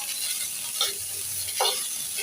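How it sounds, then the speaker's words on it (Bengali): Green chili and onion fry in oil with salt and turmeric, a steady hissing sizzle with soft stirring scrapes now and then, close up and without any talk. "লবণ হলুদ তেল দিয়ে সুন্দর করে ভেজে নিলাম"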